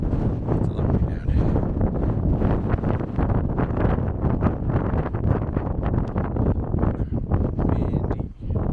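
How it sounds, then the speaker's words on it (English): Strong wind buffets the microphone on a mountain overlook in the Blue Ridge Mountains, a loud, continuous roaring rumble with gusty swells and no clear talking. "Windy."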